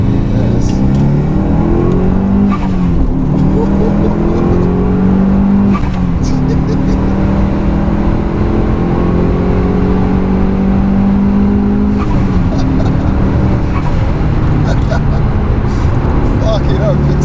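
Twenty-one-year-old Mitsubishi Evo 6 heard from inside the cabin, engine loud and close, repeatedly climbing in pitch through the gears with brief breaks at each shift, a voice talking over it.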